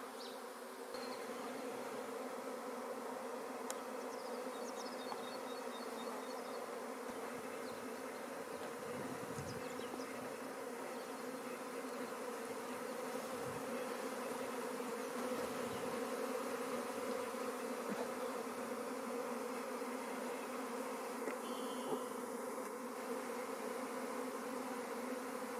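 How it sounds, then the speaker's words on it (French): A swarm of honeybees that has just left the hive fills the air with a dense, continuous buzzing hum, loud and close, holding steady throughout with no voices. "je vais regarder un petit peu où cet essaim est en train de se diriger"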